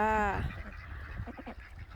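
A loud honking duck call opens, followed by a string of quieter, rapid quacks from nearby ducks.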